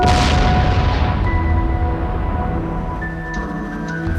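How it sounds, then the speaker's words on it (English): A heavy booming blast of a large explosion hits loudly at the start, with flames shooting 400 feet high, then a long rumbling roar that slowly decays, with no voices present. "Seconds later, flames shoot 400 feet into the air, and the explosion is seen throughout the city."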